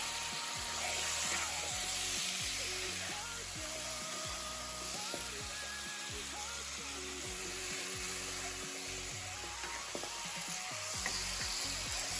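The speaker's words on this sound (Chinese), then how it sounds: "接下來放入醃好的雞腿，繼續翻炒，讓雞腿均勻裹上香料與糖色。" Marinated chicken legs stir-fry in a wok with spices and caramelized sugar, a dense broad sizzle under repeated clanks and scrapes of a turner, close and continuous without talk.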